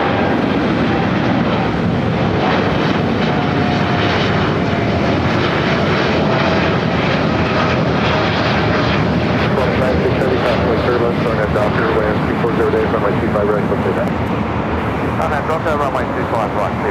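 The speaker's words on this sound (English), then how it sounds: "United Flight 1082 heading to Newark, now taking off." A United airliner, Flight 1082 bound for Newark, takes off from LAX with a loud, continuous jet roar that swells and holds, and voices are heard faintly beneath it.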